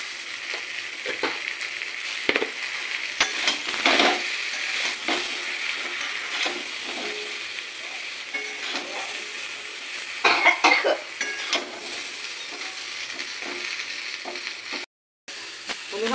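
Raw mango frying in a pan with salt and turmeric powder, a steady close sizzle with occasional stirring scrapes and clicks, one brief coughing burst partway through, then a short silent gap near the end.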